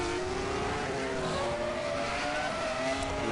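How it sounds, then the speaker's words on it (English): Race cars in a Grand Prix of Europe racing video game roar around the circuit, several engines droning and shifting pitch together in a steady, continuous wash of motor noise with no talking. "You hear cars all around the circuit."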